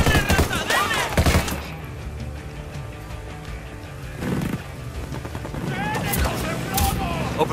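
Bursts of gunfire in the Ghost Recon Wildlands video game: loud rapid shots and scattered bangs at several points, mixed with other action noise, with voices talking over part of it.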